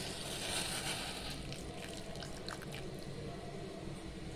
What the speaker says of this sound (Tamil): இப்போ 1/2 கப் அளவு தண்ணி சேர்த்துக்கலாம்.